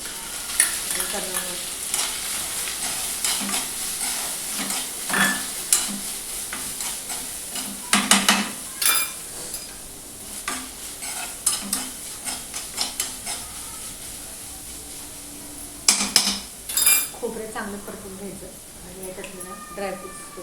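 Grated fresh coconut stir-fried in a pan for a rice kheer, giving soft sizzling and repeated stirring scrapes with a few louder clatters, while someone talks over it throughout.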